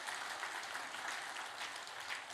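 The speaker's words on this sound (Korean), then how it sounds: "손 한 번 들어주시고 박수 한 번 쳐주시면 좋겠습니다." Congregation in a church clapping together, a continuous even wash of applause from many hands at a fairly soft level, with no pauses throughout.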